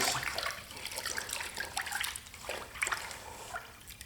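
Water sloshing and splashing in a bucket of water mixed with degreaser, used for washing hands and small engine parts, a few irregular close wet splashes with trickling in between.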